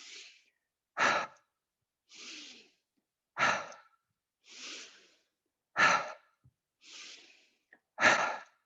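Slow yoga breathing alternates soft, airy inhales with stronger, louder exhales, about eight breaths in a steady rhythm, close to the ear, with clear silent pauses between them.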